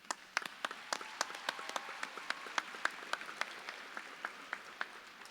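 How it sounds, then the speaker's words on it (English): Sparse applause from a graduation audience honoring the Board of Education, individual claps distinct and spaced, moderately faint in a large room, with no voices over it. "Why don't you please stand and let's give them a round of applause."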